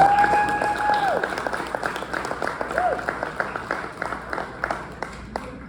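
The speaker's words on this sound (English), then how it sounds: "So give yourselves a round of applause" A round of applause from an audience at an awards gathering, with individual claps distinct and thinning toward the end, while a voice speaks over the start.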